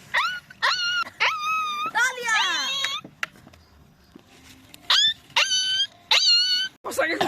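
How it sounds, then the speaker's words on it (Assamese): A dog whines and wails at night in repeated high, drawn-out cries, some rising and falling like a howl, separated by short pauses, loud and close. "ক'ত কুকুৰটো।"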